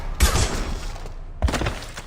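Gunfire during a Mass Effect 2 firefight: two loud bursts of shots separated by a short lull, each with a heavy low thump at its onset and a rough, sustained crackle after it.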